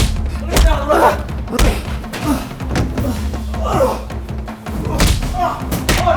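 Heavy thuds of a man being beaten up in a drama scene, dull blows landing repeatedly at an uneven pace, up close and fairly loud, with grunting and voices in between.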